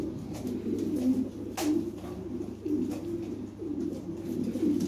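A breeding pair of European Lahori pigeons coo in soft, low, repeated phrases close by, over a steady background hum.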